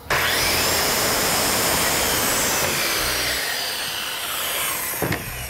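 A saw cuts through a storm door trim piece, giving a loud, continuous rasping whine that holds steady for several seconds, then tapers off, ending with a brief knock.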